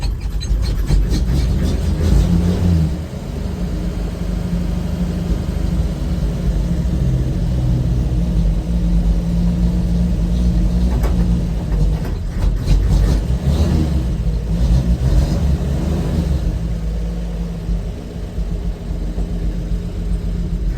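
1956 Chevrolet 235 six-cylinder engine with bad timing runs rough and struggles to idle, a close, loud, uneven rumble with irregular surges and revs throughout.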